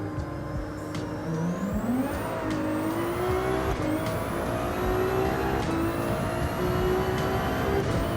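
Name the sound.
race car accelerating off the line in Gran Turismo 7 video game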